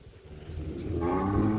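A cow on a farm, among cows being fed cut maize, lets out a low, rising moo that swells loud and close in the second half, with no talk over it.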